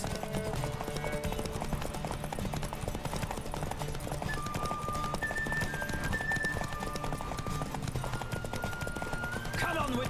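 A horse gallops hard in The Witcher 3 video game, a fast continuous clatter of hooves held at a constant pace and loudness, with game music tones and a voice talking over it.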